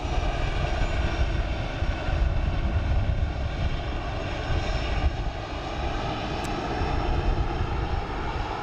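An Aer Lingus airliner at Dublin Airport produces a loud, steady jet engine roar that holds without letup, broad and rumbling, with no voices over it.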